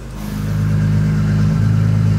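A Porsche Panamera tuned to Stage 2 revs up close by, its engine rising in a loud, sustained drone with a slight change in pitch midway.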